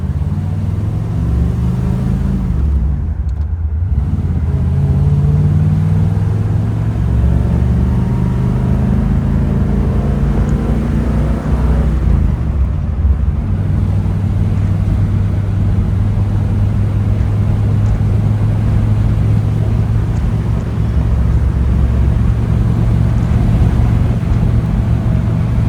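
A 1956 Ford Fairlane Sunliner convertible with overdrive drives steadily, its engine a loud continuous drone with low rumble and wind noise, the pitch rising and falling as it shifts through gears.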